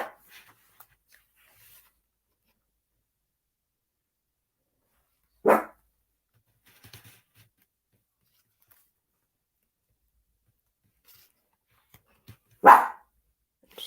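A single dog barks indoors at home, two isolated sharp barks spaced several seconds apart, fairly close, against near silence.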